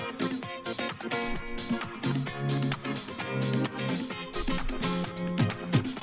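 Two layered organ parts in a disco mix combine into a thick, continuous wall of sound with a busy rhythmic pulse and full low end, playing without any talk.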